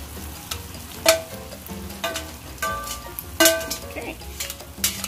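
Pasta is being tossed into a garlic shrimp sauce in a pan, with a low sizzle under sharp, intermittent clinks and scrapes of a utensil against the pan. The stirring comes in uneven bursts close by.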